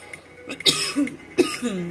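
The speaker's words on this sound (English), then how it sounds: "my coughing was not this bad before I started the video" A few short coughs close by, in quick bursts separated by brief pauses, with no talking.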